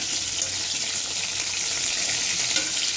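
Small fish pieces, rubbed with spices and fried with cumin seeds in a hot karahi, sizzle in a steady, loud, dense crackle that continues unbroken, with no voices.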